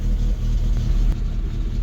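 A Rover 25 GTI engine running at a high, rough idle, giving a loud, close, steady low rumble with a slight uneven wobble and no talk over it.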